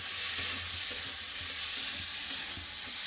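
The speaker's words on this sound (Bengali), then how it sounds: "মটরশুঁটি কেটে রাখা টমেটো সব একসাথে ভালো করে ভেজে নেব" Peas and chopped tomatoes fry together in a pan with a steady, even hiss and soft occasional stirring clicks. The sizzle is close and continuous, with no voices.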